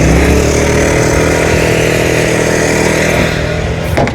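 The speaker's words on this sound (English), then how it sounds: "And I ramp up the speed of the generator." A portable generator running in a car's trunk, with its speed ramped up, gives a loud, steady, close engine drone that holds throughout and eases off slightly at the end.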